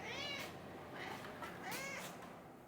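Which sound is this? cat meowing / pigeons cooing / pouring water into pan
cat meowing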